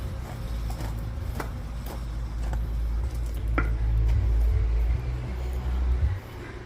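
A 2013 Tohatsu 8hp outboard motor with its cover off runs in gear just above idle, a steady low drone with light rattling clicks on top, holding even throughout.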